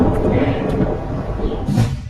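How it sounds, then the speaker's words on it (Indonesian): Thunder rumbling before heavy rain in a film scene, a loud, dense, continuous low roll filling the short stretch and swelling near the end. "Petir kemudian menggelegar menandakan akan turun hujan lebat"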